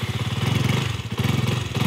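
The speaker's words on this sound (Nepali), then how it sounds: "स्टार्ट पनि भयो बाइक लु" A KTM 200 Duke motorcycle engine idles steadily after starting, a close, loud rapid thumping pulse with a rough mechanical rattle, with no pauses throughout.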